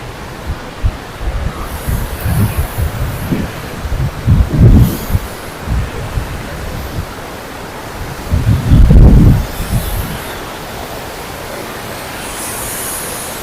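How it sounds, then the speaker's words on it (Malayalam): Loud, steady rushing water roars without pause, swelling in a few heavier surges, from a strong flow at the edge of the Anamalai and Parambikulam tiger reserves. "ഭയങ്കര ഒഴുക്കാ പിന്നെ മുകളിലും ഒക്കെ വെള്ളം സ്റ്റോർ ചെയ്താ ലീക്ക് ഉണ്ട് കേട്ടോ"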